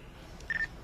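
A single short telephone keypad tone sounds from a repaired phone, clean and fairly loud over a quiet background with faint room hum.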